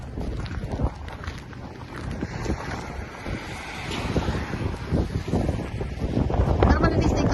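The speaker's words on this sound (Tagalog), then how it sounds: "Lakas pa rin ang hangin." Strong wind during a snowstorm in Canada roars and buffets the microphone in loud, rising gusts, growing heavier toward the end, with a voice speaking faintly beneath.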